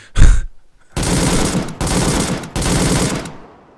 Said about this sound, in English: You're basically firing off a mag instead of a drum at the moment.